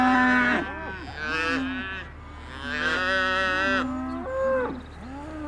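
Cattle on a farm low repeatedly, several drawn-out harmonic moos overlapping one another, close and fairly loud across the whole stretch, with no talk.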